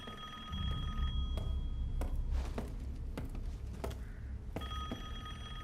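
A telephone rings inside Resident Evil Village, a repeated electronic bell trilling in bursts over a low game ambience, with a few brief clicks and knocks between rings.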